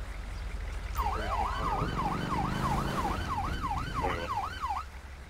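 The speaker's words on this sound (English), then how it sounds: "the reason that siren sounds so pathetic is because it's a non-ELS bike" Weak-sounding police motorcycle siren from a non-ELS bike in GTA 5 with the LSPDFR mod, a rapid repeating wail cycling about a dozen times, fairly loud over a low engine rumble.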